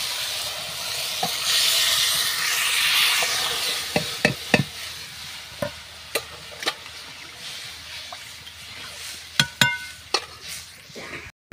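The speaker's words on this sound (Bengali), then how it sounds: "তো এবার একটু মশলা করে ফোড়ন দিয়ে দিলাম ডালটা।" Spice tempering sizzles in a pot of mung dal while being stirred, a steady frying hiss broken by scattered scrapes and clinks of the spoon against the pan, close by with no talking.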